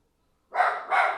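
Harlow the dog gives two quick, sharp alert barks in a row, close and fairly loud, after a moment of silence.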